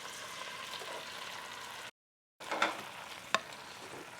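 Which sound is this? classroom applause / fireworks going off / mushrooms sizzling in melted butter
mushrooms sizzling in melted butter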